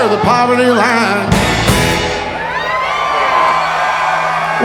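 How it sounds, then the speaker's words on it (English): Concert crowd at a country-style band's show cheering and whooping loudly after a song ends, a burst of shouts and applause rising over fading music, then a steady roar of cheers. "What a killer crowd."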